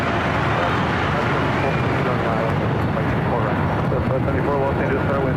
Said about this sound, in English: Delta 767 heading to JFK, heading up here for Northside takeoff